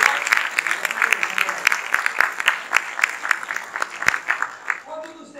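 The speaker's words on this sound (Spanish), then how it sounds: "tenemos un fuerte aplauso a Alfredo" An audience at a sales training seminar gives Alfredo a round of applause, brisk crowded clapping with a few louder hands and murmured voices underneath, trailing off at the end.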